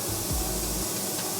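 Continuous broadband hiss of a spray gun applying water-based paint at close range, steady and even through the whole moment with no talking.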